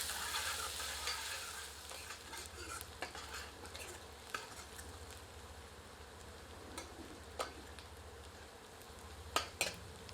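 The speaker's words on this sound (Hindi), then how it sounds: "प्याज को सुनहरा होने तक भून लेते हैं" A soft, steady sizzle of onions frying in a pan, with occasional light scrapes and taps of a spoon stirring, quiet and without voices.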